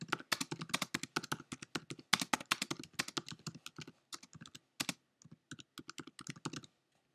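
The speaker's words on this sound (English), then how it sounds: "I'm going to type in what we've got written on our other flyer" Rapid typing on a computer keyboard, close and clear, with quick bursts of key clicks, brief pauses near the end, and no voices.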